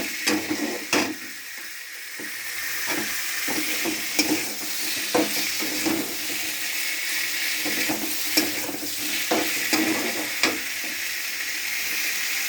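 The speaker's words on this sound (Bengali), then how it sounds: "সিদ্ধ করা আলুটা দিয়ে দিয়ে এবার কষবো" Boiled potatoes are stirred and fried in a cooked spice mixture in a pan, giving a steady close sizzle broken by irregular utensil scrapes and knocks, with no voices.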